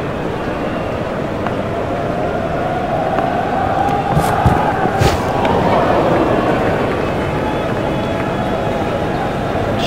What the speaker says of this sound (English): how he deserves the applause of this tremendous crowd